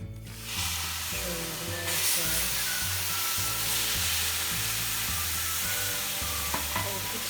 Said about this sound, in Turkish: Soğuk suyumuzu kattık.